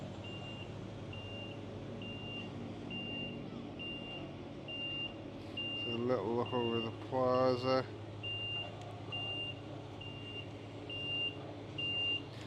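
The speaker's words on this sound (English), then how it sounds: "All sorts of trucks reversing out from where the Marquee is." Trucks reverse out at a stadium construction site at Bramley-Moore Dock, their reversing alarms beeping in a steady, regular rhythm over a low engine rumble, while someone talks briefly in the middle.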